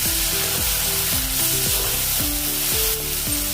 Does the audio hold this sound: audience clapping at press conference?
no